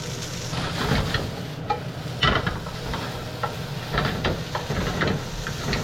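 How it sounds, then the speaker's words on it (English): Spanish rice crisps in a hot pan, a steady close sizzle and hiss broken by scraping stirs, with no talking. "So I'm getting a little bit of crisp on this rice, and it's just about done."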